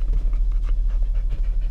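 A dog pants close to the microphone in a quick, steady rhythm of short breaths, over a low rumble.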